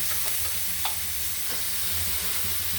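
Chicken pieces sizzle and fry steadily in a pan as they are stirred for a spiced curry, a dense continuous hiss with occasional scraping stirs, close and alone without talk.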